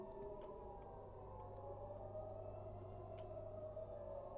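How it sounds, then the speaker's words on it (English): A steady wailing siren in Farming Simulator 25 drones continuously at low volume, its pitch wavering slightly, with faint clicks scattered over it. "We're hearing sirens."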